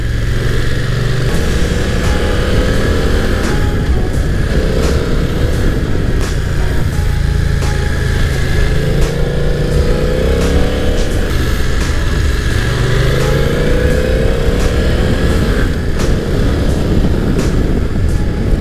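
A motorcycle with a quick shifter, ridden hard: a loud, close engine drone that repeatedly climbs in pitch and drops as it shifts through gears without the clutch, steady for the whole stretch and with no talking.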